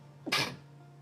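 One short, sharp sneeze, close and fairly loud, bursting out over a faint steady hum and quickly fading.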